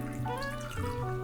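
Sparkling water pours into a cocktail glass in place of Prosecco, giving a steady close trickle with gurgling, bubbling tones that shift in pitch as the glass fills.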